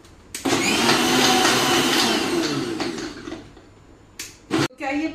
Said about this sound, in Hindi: इसको मैं चलाने वाली हूँ मिक्सी को थोड़ी देर।